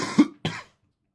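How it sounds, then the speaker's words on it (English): Two quick, close coughs in a row, the first stronger, followed by silence. "Pardon my cough. I did not catch that in time."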